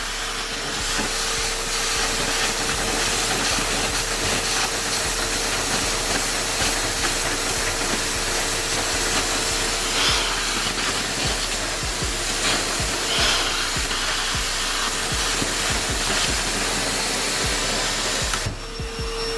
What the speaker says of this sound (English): if you hear all the airflow is coming out super crazy, that means it's clogged